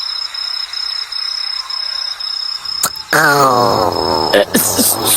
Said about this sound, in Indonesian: masa nggak ngenalin suara perut anak sendiri?